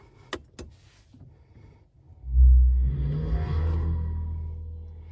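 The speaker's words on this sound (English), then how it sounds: "That's the sound you get when you start the car." A Mercedes-AMG EQS53 4Matic electric car plays its start-up sound inside the cabin: a brief click, then a rising synthetic hum that swells and holds steady as a low, sustained drone.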